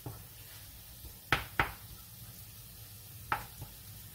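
Meat browns in a pan with a low, steady sizzle, broken by a few sharp knocks of a utensil against the pan, close and fairly quiet.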